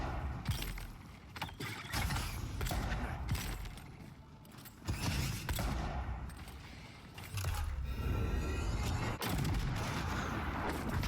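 Pistol gunfire in the fantasy game Avowed, dense repeated shots and impacts layered with constant combat noise, loud and busy throughout without pauses.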